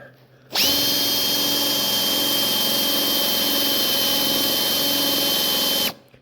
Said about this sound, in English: Get the Forstner bit lined up.